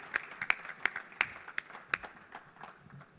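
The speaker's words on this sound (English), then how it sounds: "Ladies and gentlemen, a huge round of applause for him, please." Scattered, uneven hand claps from a small conference audience welcoming a panelist, a handful of sharp distinct claps spread over a few seconds, fairly faint and thinning out toward the end.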